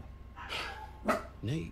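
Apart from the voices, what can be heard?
dogs barking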